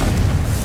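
Confringo explosive spell in Hogwarts Legacy, a short, loud, deep boom that fills the whole brief moment with low rumble.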